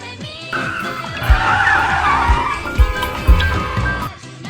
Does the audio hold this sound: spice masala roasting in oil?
no